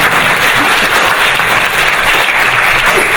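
Audience applause at the close of a bioethics panel talk, a dense steady wash of many hands clapping at full volume throughout with no pauses.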